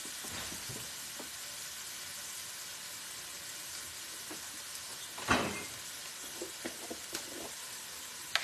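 Minced garlic sizzles steadily in a hot pan alongside softening onions, a continuous broadband hiss with a louder burst midway as it hits the oil, followed by a few small clinks and stirring taps near the end.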